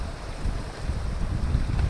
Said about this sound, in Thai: บ่ายมาเนี่ยลมตลอดเลยหมายไหนก็ลมแรงนะครับ